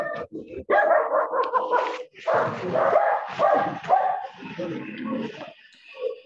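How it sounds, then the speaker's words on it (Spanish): A small dog barks and yips repeatedly in quick bursts, fairly close, with a short whimper near the end. "hay un perrito ladrando"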